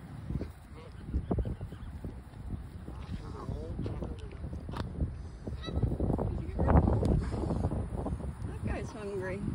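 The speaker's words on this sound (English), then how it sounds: "Do you enjoy feeding the ducks?" Ducks and geese being fed by people honk repeatedly, loud and close, overlapping in ragged bursts over gusting wind noise, while people talk nearby.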